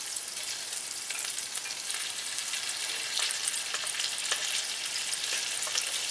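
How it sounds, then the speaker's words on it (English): Chicken pieces fry skin side down in a cast-iron Dutch oven over charcoal for jollof chicken, giving a steady, dense sizzle with faint crackles throughout, close and even, with no voices. "I'm going to let these fry up on the other side, skin side, for just a few minutes."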